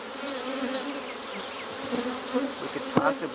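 Honey bees drone steadily at an open hive, a close, continuous buzz with a few brief knocks and handling sounds near the end.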